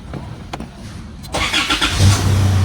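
Isuzu MU-X 2019 diesel, after a no-crank starting fault was repaired, gives a few faint clicks, then cranks and catches, settling into a loud close idle.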